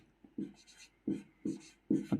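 Pen strokes on paper during a Hindi maths lesson, several short scratchy bursts in an uneven rhythm, close and fairly quiet, with no talking.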